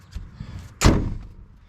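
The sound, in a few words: door of a 1977 Chevrolet K5 Blazer closing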